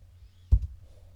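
A single mouse click in video editing software, a short close tap followed by a faint second tick, alone against a quiet room hum.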